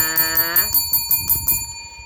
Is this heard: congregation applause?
no